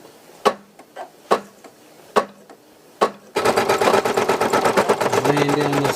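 An embroidery machine lays down underlay stitches. A few sharp, separate clicks come first, then a loud, fast, steady stitching rhythm takes over, heard up close and with no talking.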